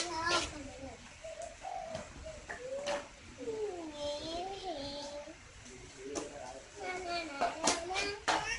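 A caged francolin (partridge) gives repeated warbling, wavering calls among scattered clicks and knocks, with people, including a child, talking nearby.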